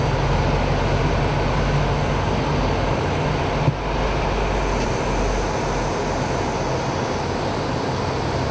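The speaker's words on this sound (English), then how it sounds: "We're cleared for takeoff and advance the throttles to maximum power, and the HF120 engines push us forward." HondaJet light business jet with HF120 turbofan engines at maximum takeoff power, a loud, steady broadband roar and rumble that holds constant throughout, heard from the cabin with no talk.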